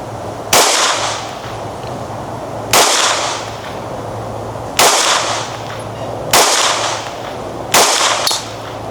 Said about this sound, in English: We about to take 5 shots with the Canik, 7 yards up top.